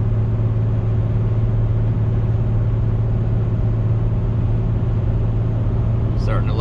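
A 2017 Ram 3500 Cummins diesel pickup towing 30,000 lbs cruises after a shift into fifth gear, its low engine drone and road rumble steady and loud from inside the cab.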